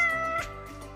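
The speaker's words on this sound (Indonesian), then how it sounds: "Dan lihat ada kucing lewat." A cat passing by gives a single short meow, faint and brief over a steady low background hum.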